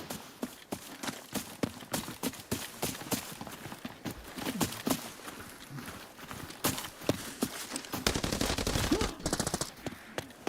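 Rapid gunfire from the shooter game Arena Breakout: Infinite, irregular bursts of close sharp shots with quieter gaps and a denser volley near the end.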